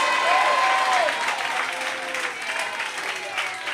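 A church congregation claps hands together in worship, a steady dense wash of applause filling the room, with faint voices or singing woven through it.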